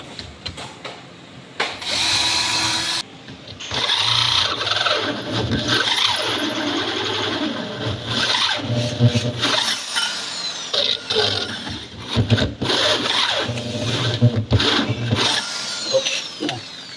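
A large drill bores a hole for a hose to pass through, whining and grinding loudly and almost continuously for most of the stretch, with a brief pause early on.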